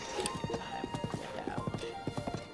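Horse hooves clip-clop in a quick rhythmic gallop through the Lost Woods in the video game The Legend of Zelda: Breath of the Wild, repeated sharp thuds at close range with faint game ambience.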